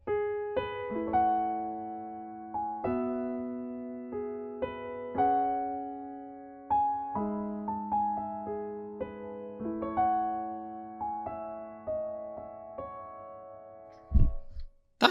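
Solo piano plays a repeating 6-7-1-5 chord progression from a Deltarune piece, sustained chords struck one after another in a steady rhythm, clear and moderately soft, with no talking.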